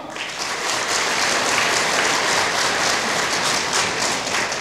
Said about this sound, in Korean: 우리 이렇게 대통합을 이루어낸 우리 모두에게 뜨거운 박수로 서로 격려해 주시기 바랍니다